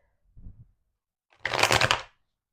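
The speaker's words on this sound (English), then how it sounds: "I'm gonna get a few more shuffles" A short soft rustle, then a quick riffle of a deck of tarot cards being shuffled, close and crisp, lasting under a second.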